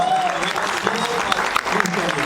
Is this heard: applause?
yes